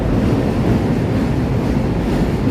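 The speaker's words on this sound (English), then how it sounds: "There goes the train pulling out of the station." A train pulling out of a station in Chicago's Loop, a loud steady low rumble filling the whole stretch, heard close with wind-like broadband noise and no talk.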